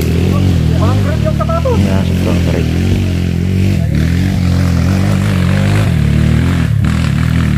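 An RF LX 140 motorcycle engine labors and revs on a steep hard enduro trail at Mt. Paldingan, loud and continuous with rising and falling pitch, close by, while people talk and shout over it.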